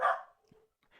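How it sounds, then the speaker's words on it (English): A dog gives a single short bark, close and clear, followed by near silence and a faint trailing sound. "And I apparently have a dog."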